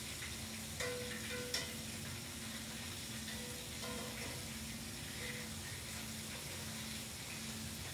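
Pork chop nuggets frying in oil, a steady dense sizzle held throughout at an even level, with a few faint clinks of utensils over it.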